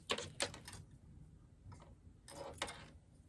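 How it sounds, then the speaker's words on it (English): A sewing machine stitching a fabric wristlet strap runs in short, faint bursts of rapid mechanical clatter separated by brief pauses. "So we'll go ahead and sew those together"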